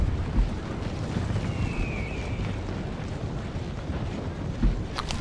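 Cannon volleys from enemy troops in Empire: Total War, heard as low, booming rumbles under steady wind-like noise, with a sharper distant crack near the end.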